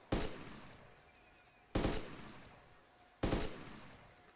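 Three single rifle shots in DayZ, each a loud, sharp crack with a long echoing tail, spaced about a second and a half apart, with no other sounds between them.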